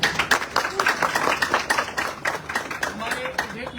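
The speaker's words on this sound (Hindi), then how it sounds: "मैं चाहता हूँ गुरु जी के जोरदार तालियां हो।" An audience claps loudly for a guru at an AWPL gathering, with sharp close claps in an uneven rhythm and voices talking and cheering over them.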